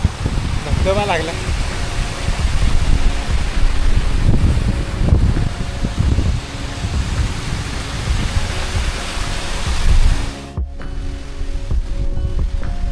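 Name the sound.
waterfall on mountain trek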